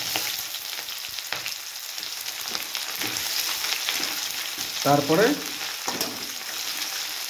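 Onions and cumin frying in hot oil in a wok-style pan for a rohu fish and taro curry, a steady close sizzle with brief louder crackles partway through.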